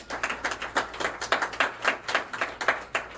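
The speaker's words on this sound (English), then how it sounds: "Give a round of applause." A small audience gives a round of applause, a modest, fairly sparse patter of individual hand claps with a loose rhythm, heard up close for about three seconds.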